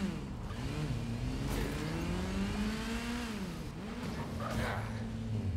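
Motorcycle riding in the video game Gotham Knights, with a steady engine drone that rises and falls in pitch as the bike accelerates, loud and continuous throughout.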